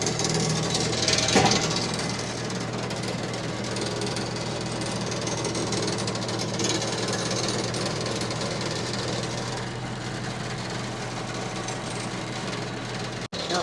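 An old Prentice log loader's engine runs steadily and loudly with a dense, rattling, knocking clatter that stays even throughout, with no voices.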